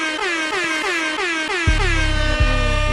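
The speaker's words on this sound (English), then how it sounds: "We got air horns in abundance on the way in." An air horn sound effect blares in a rapid string of stuttering bursts, then drops into lower, heavier horn blasts, all loud and continuous with no talking.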